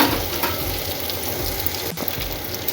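Beef browning in a hot pan gives a steady, close sizzle with a constant crackling hiss. It runs unbroken throughout, with no voices over it.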